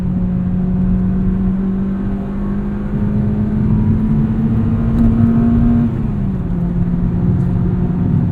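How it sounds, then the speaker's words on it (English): A 2006 Acura RSX Type-S engine droning steadily from inside the car while driving, the tone climbing slowly as revs build, then dropping briefly as the engine note shifts and settles. "You really got to rev it out to stay in the power band."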